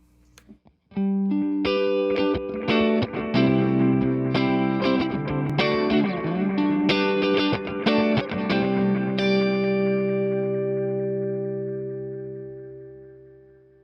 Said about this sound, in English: As you can hear, the pedal adds just a nice trail behind the guitar